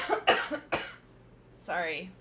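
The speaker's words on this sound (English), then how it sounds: "I gotta cough really hard." One person coughs hard, a single forceful burst among several loud breathy bursts, mixed with speech from a live, unedited talk show recorded in a room.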